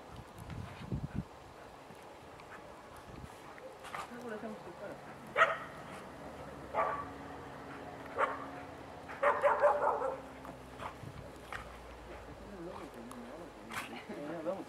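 Several dogs play-fighting bark and yip in short bursts amid scuffling, with people talking intermittently in the background.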